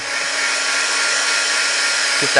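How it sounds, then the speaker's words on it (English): A heat gun blows steadily on a handmade tropical beach greeting card, a loud, even airy whir held close throughout with a brief voice at the very end. "I'll give it a little shot with my heat gun."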